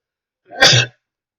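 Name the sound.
sneeze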